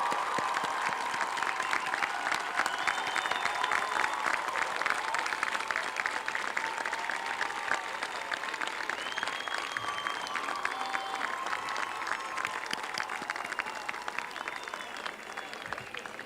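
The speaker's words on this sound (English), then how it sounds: "Parents of the graduates, would you please stand and let us applaud you for your role in the accomplishment of your students." Sustained applause from a large commencement crowd honoring graduates' parents, a thick continuous wash of clapping that stays steady for over fifteen seconds, with faint cheers and crowd noise mixed in.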